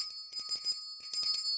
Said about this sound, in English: I will certainly ring that bell